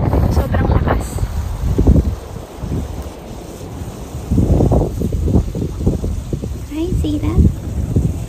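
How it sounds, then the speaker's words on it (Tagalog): Strong gusts of wind buffet the microphone outdoors, a steady low roaring rumble throughout, with a person talking over it at times. "Sobrang lakas ng hangin."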